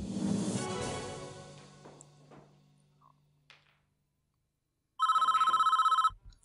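A telephone rings inside the prison management game Prison Architect, a single loud electronic trilling ring burst after a fading musical chord and near-silence.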